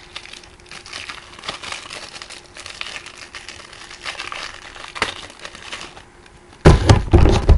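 Crinkly foil wrapper of a Yu-Gi-Oh! booster pack being handled and torn open up close, steady crackling rustle that ends in a louder burst of crumpling.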